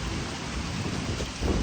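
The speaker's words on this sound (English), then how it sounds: "and pouring down rain, setting up" Heavy rain pours down outdoors at a food truck event, a dense, loud, continuous hiss with a slight swell toward the end.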